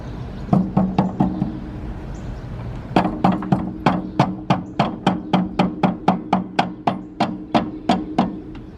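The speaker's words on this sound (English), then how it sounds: "you want to hit it with a hammer, or in this case a rubber mallet" Steady, evenly spaced thuds of a rubber mallet striking a 1997-2001 Honda Prelude suspension strut, about two per second, loud and close with a faint hum underneath.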